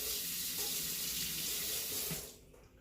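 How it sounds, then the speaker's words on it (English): A spoon is rinsed under a running kitchen tap, giving a steady, close hiss of flowing water that cuts off near the end. "Let me rinse my spoon off"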